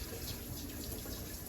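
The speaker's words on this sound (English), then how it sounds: "I like to give it a quick hose down with the tap water, just to get some of those really big pieces of poop off of there" Tap water runs steadily over a Fluval 207 aquarium filter as it is hosed down, a continuous close, even spray and hiss with no pauses and no voices.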